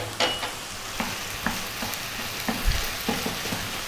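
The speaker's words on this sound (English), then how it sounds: "4 more minutes, stirring often" Lamb curry with ginger garlic paste, salt and fresh chilies stirred in a pan, a steady sizzle under repeated scraping strokes of a spoon at a slow, even rhythm, close by and with no talking.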